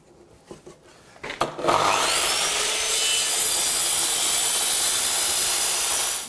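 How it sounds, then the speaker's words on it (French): A few clicks and a motor whirring up, then a miter saw biting steadily through oak at a 45-degree angle with a loud, sustained high whine until it stops. "des coupes d'onglets, donc à 45 degrés, qui sont réalisées avec la scie d'onglet"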